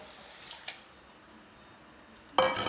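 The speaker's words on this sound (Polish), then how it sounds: "Teraz dodajemy mięso i zalewamy wcześniej przygotowanym bulionem." Broth poured over browned pork, leek and onion in a pot, a brief liquid splash and gush arriving near the end after quiet kitchen background with a couple of small clinks.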